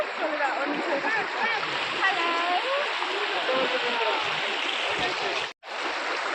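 The Koozhangal waterfall at Valparai rushing over pebbles, a loud, steady wash of water close by, with voices faintly mixed in and a brief dropout near the end.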